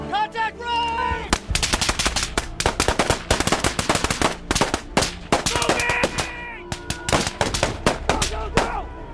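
Rapid, loud bursts of close gunfire crack out in uneven volleys throughout a simulated ambush drill, with brief gaps between strings of shots and faint shouting mixed in.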